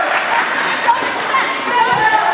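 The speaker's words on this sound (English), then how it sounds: "Crowd's getting into it." Volleyball crowd at a Solid Rock match cheering and chattering steadily, a dense, continuous wash of voices with occasional thuds, loud throughout the short stretch.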